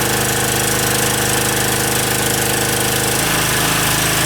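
An OKAY 2.8 kW generator with copper windings and AVR runs under load, its engine a loud, close, rapid knocking drone that shifts slightly in pitch near the end, with no voices.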